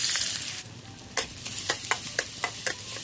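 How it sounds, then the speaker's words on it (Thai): Steady sizzling of pounded spice paste stir-frying in hot oil, with a series of sharp scraping clicks from a utensil stirring the pan at an uneven rhythm. "นำส่วนผสมที่เราตำไว้ลงผัดกันเลยครับ"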